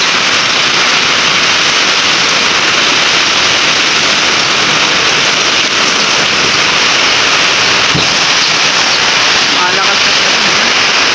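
Heavy typhoon rain and gusting wind during a signal #3 storm in Isabela, a dense, steady roar of downpour filling the whole stretch, loud and close, with no break.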